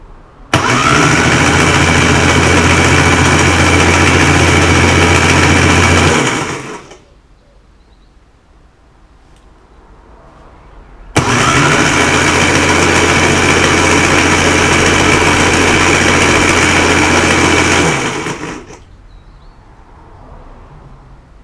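The engine of a 1988 Classic Mini Mayfair, wired with a crude oil pressure light during restoration, cranks on the starter in two loud, steady bursts of about six seconds each, separated by a quiet pause.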